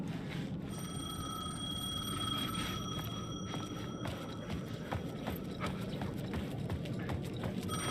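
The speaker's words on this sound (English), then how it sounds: "The payphone was ringing." A payphone rings in the dark horror game Alan Wake 2, several bright repeated bell tones over a loud low ambient rumble and scattered clicks, with no talking.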